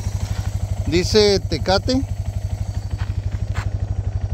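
A motorcycle at a desert campsite idles close by with a steady, evenly pulsing low thump, continuing under a short burst of speech.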